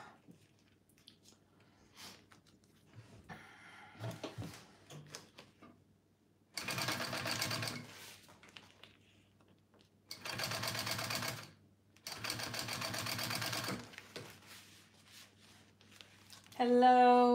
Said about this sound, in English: I'm gonna sew up this strap now